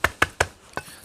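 A cleaver lightly smashes green vegetable stalks with their leaves removed on a chopping block, making four quick, close thumps in a steady rhythm, the last one a little softer.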